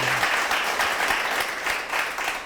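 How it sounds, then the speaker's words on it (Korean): A church congregation claps together, a dense, even round of applause heard close and continuous with no break. "네, 박수 부탁드립니다"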